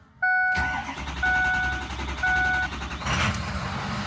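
A Ford PowerStroke diesel truck engine cranks and catches, then runs with a steady low rumble close by while a warning chime beeps repeatedly over it.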